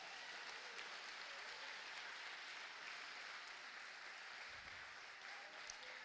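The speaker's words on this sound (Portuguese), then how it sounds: "você pode aplaudir Jesus essa noite?" A church conference congregation applauds in worship, a steady wash of clapping that fills the room, heard from within the crowd.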